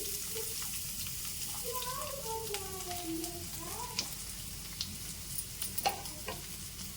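Curry leaves, green chillies and garlic frying in oil in a pan for brinjal ennegai, a steady broadband sizzle with faint crackles, and a soft whistling tone weaving through its first half; no one speaks.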